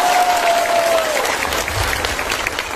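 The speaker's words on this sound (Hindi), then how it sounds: "ताली मारो इसके लिए भी" A crowd at a political gathering applauds in a steady burst of clapping, with a brief whistle-like tone at the start and a faint voice underneath.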